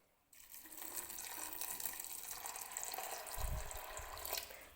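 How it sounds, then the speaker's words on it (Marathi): Water is poured from close by onto washed sago in a container, making a steady splashing, gurgling pour that runs continuously for several seconds at low volume. "तर आता आपल्याला याच्यामध्ये पाणी टाकायचं आहे"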